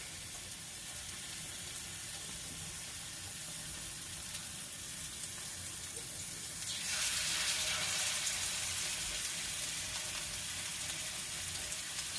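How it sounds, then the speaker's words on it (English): Oil heating in a frying pan gives off a steady, soft sizzling hiss that grows noticeably louder and brighter partway through, with no talking. "I have some oil in my pan that has been heating up."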